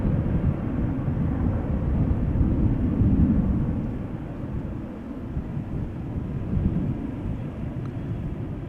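A KLM airliner climbs out from Amsterdam Schiphol on a flight to Mumbai, a steady low broadband jet roar that swells slightly and then eases, heard alone with wind across the microphone.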